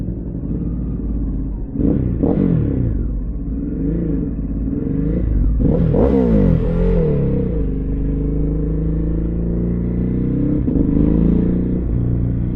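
Ducati motorcycles, a Diavel V4 and a Hypermotard 950, riding through slow Skyway traffic with engines rumbling close by and rising in several revving surges before settling to a steady idle-like drone; no talk heard.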